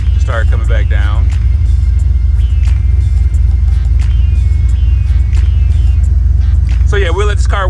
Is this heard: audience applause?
no